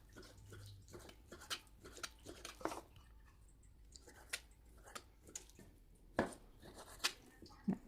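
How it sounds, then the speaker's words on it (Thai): Faint, irregular taps and soft cuts of a knife slicing pork into thin pieces on a cutting board, spaced unevenly with quiet pauses between. "หั่นชิ้นบางๆ"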